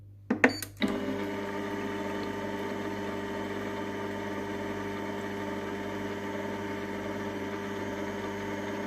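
Moulinex Companion Cook Pro M6 food processor set to speed 2, starting after a few sharp clicks and settling into a steady, moderate motor hum that runs evenly to the end.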